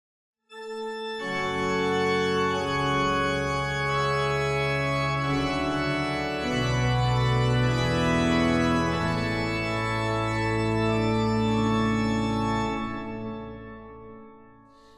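Ely Cathedral's 1908 Harrison & Harrison organ sounds a full mixture chorus with cymbal, five-rank mixture and large open diapason, a bright, dense sustained chord that swells and shifts for about fourteen seconds, loud and alone in a reverberant space.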